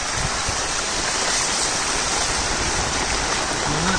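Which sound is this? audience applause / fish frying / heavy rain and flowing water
heavy rain and flowing water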